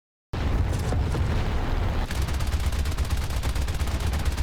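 A sudden loud burst of aircraft cannon and machine-gun fire from an A6M3 Zero fighter in the War Thunder game, dense rapid firing over a steady engine roar, growing into a fast rattling stream.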